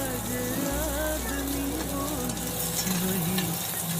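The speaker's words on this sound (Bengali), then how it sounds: "এখন লাড়াচাড়া করে লাল করে ভাজা করে নিব" Chopped onion and garlic sizzle and crackle in a hot pan for a lentil dal, with a steady, close frying hiss and faint stirring throughout.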